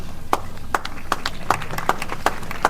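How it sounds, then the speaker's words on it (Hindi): Audience clapping at a seminar, sharp claps falling in a slow, even rhythm, moderately close and heard alone. "तालियां जोर से बजा सकते हैं"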